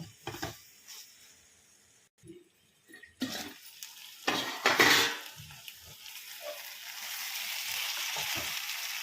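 Okra, tomato and green chilli curry being stirred in a pan, a spoon scraping and clinking against the pan in irregular strokes over a soft sizzle that grows steadier toward the end.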